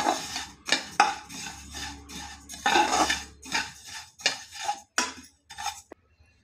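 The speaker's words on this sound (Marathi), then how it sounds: "तीळ अगदी जास्तच नाही भाजायचे, तीळ करपले तर त्याला कडवट चव येते, म्हणून मंद आचेवरती" Sesame seeds dry-roasted over low heat in a pan, stirred in a series of short scraping, rattling bursts with brief pauses between strokes, close and fairly clear with no talking.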